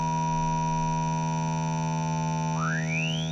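A steady pure sine tone sounds alone and loud, layered with a low hum and other fixed harmonic lines; near the end a second tone glides smoothly upward in pitch.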